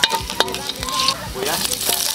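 Garlic sautéed in a pan as the base for ginisang monggo, a steady close sizzle and crackle with scraping stirs and a brief clatter.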